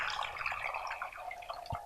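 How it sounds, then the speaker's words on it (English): Water splashes and trickles into a cooking pot in a kitchen, a soft, continuous bright stream with a small drip-like splash near the end, close and fairly quiet, with no talking. "So we are going to have water in the pot."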